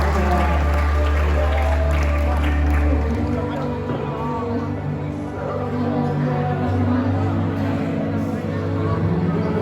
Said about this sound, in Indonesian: Tepuk tangan untuk segala inspirasi yang diberikan oleh Pak Ratno